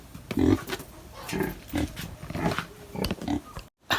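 Pigs or piglets kept as livestock grunt and squeal close by in a series of short, irregular bursts, with a brief silent gap near the end.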